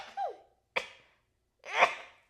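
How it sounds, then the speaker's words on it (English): A person sneezes nearby, loud and sharp, with a small vocal sound just before it and a second breathy burst about a second later. "I'm gonna sneeze."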